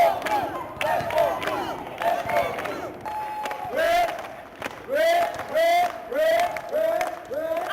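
A crowd cheering during team warm-ups for basketball drills, loud rhythmic group chants and shouts that come in repeated bursts, close and energetic, with scattered clapping.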